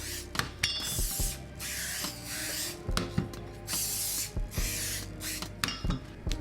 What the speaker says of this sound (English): So we're just giving it a spray pretty generously all around the sides as well.